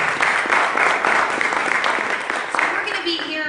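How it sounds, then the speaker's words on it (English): Audience applause at a networking event for entrepreneurs, dense clapping filling the room steadily for a few seconds and fading near the end, with faint voices underneath. "Let's give him a round of applause."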